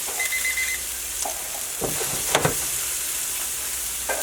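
Peppers and mushrooms frying in a white wine sauce in a pan, a continuous hissing sizzle with a few brief stirring scrapes and clinks near the middle, close and moderately loud.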